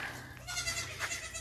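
A baby goat bleats in a pasture, a short wavering cry heard fairly faint and slightly distant, followed by a second brief bleat against quiet outdoor background.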